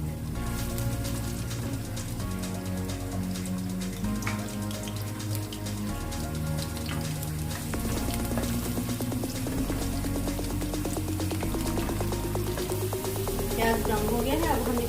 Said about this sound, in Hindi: तो हम सबसे पहले ऑयल गरम करके प्याज डाल देंगे और प्याज को कर लेंगे ब्राउन।